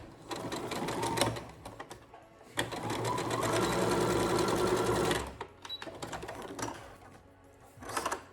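A sewing machine back-stitches a fabric face mask in rapid close needle bursts, a short run, a longer steady stretch, then a few brief stops and starts.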